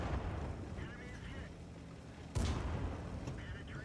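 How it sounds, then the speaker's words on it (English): An artillery shell lands near a tank in World of Tanks, a single sudden boom whose broadband burst stands out over ongoing engine rumble and battle noise. "Artillery missed me as well."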